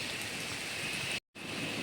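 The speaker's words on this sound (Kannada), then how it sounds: "ಮಳೆ ಬರ್ತಿದೆ" Steady rain falling on a coffee estate, an even soft hiss with no voices, interrupted by a brief moment of silence partway through.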